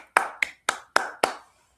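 Five sharp hand claps at an even, unhurried pace, close and crisp, each ringing out briefly in a quiet room.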